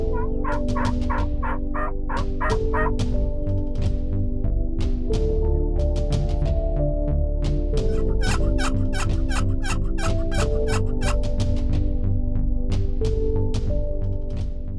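Repeated gobbles from Rio Grande wild turkeys ring out in bursts over a steady low rumble, several birds calling one after another with no talking, near San Angelo, Texas.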